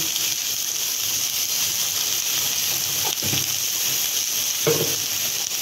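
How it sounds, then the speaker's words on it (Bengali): Hog plum chutney sautéing with salt in a pan makes a constant loud sizzle and hiss, with two brief stirring scrapes near the end and no voices. "লবণ দিয়ে ভালো করে কষিয়ে নেব।"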